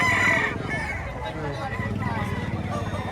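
Roosters crow loudly and chickens cluck at a busy Batangas chicken market, with one strong crow at the start and ongoing clucking and the murmur of a crowd after it, while people talk nearby.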